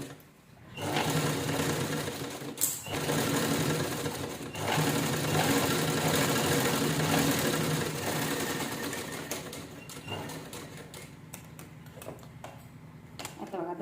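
Sewing machine running steadily as it press-stitches a fabric purse with zippers, a continuous close mechanical whir with a few brief clicks and pauses near the end.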